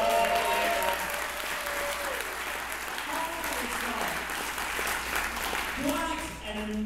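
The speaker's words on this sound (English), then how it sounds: "let's also give a nice big round of applause to Halstead Vodka" Applause at a comedy club, a steady round of clapping from the crowd with a person talking over it partway through.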